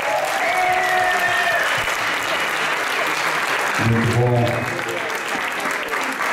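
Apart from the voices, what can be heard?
applause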